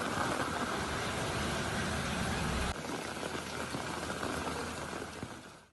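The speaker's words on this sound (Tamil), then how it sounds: "மின்னலுடன் கனமழை பெய்தது." Heavy rain with thunder and lightning around Veppanahalli in Krishnagiri district, Tamil Nadu, heard as a dense, steady hiss of downpour, close and continuous, with no distinct thunderclap standing out.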